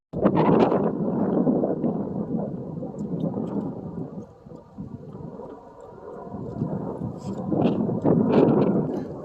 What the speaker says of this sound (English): it's very cold and windy on that side of the creek